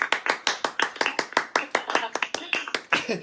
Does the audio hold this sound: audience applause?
yes